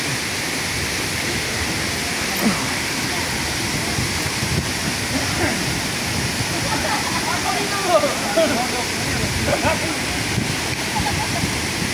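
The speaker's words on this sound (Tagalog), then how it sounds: "Sa Talay Falls. Oh my God!" Talay Falls waterfall roars as a steady, broadband wash of falling water throughout, with people talking over it at moments.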